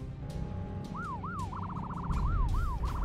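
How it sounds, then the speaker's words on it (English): A wailing and yelping police siren from MechWarrior Online sweeps up and down repeatedly over a steady rumble of mech game noise, loud and up close, with no talk over it. "Is that what that was with the police sirens?"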